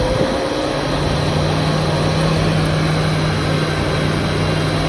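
A Suzuki Katana motorcycle engine held at steady raised revs while the radiator is refilled with 50:50 coolant, a loud continuous drone with a constant pitch, no voices.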